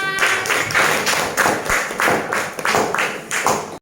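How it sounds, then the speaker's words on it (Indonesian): Rhythmic group clapping in a classroom, a run of roughly unison claps in steady beats from a small group of students, close and fairly loud, with no talking over it. "Kita berikan tepuk tangan."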